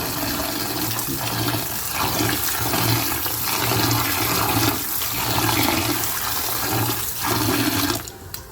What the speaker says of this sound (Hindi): इसे पानी में अच्छी तरह धोकर हाथ से इस तरह मसल के इसे मसल लेंगे